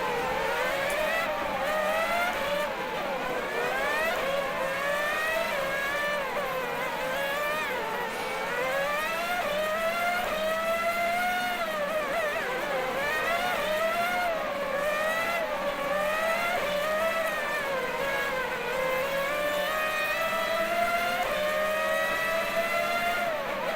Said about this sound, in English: Ooh, the Porsche is very fast on the straights.